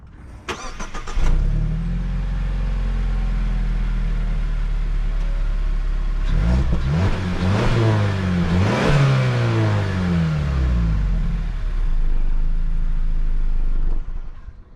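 A 2023 Mazda CX-50's 2.5-liter turbocharged four-cylinder with a six-speed automatic and all-wheel drive starts, then steadily revs and accelerates through gear changes, loud and close throughout with no talking.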